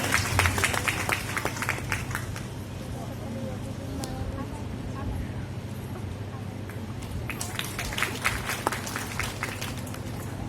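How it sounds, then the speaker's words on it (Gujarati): An audience at a women's felicitation ceremony in Patan bursts into scattered clapping that fades under ongoing talk, then rises again into a fresh round of applause near the end. "આપણે જબરદસ્ત તાળીઓના ગડગડાટથી વધાવી લઈએ"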